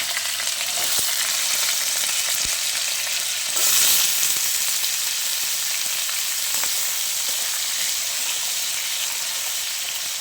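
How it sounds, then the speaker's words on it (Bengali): Potatoes frying in hot oil in a wok after cumin seeds and a bay leaf, a steady loud sizzle with a brief louder burst partway through, no voices. "এরপর আমি আলুগুলোকে ভালো করে ভেজে নেব।"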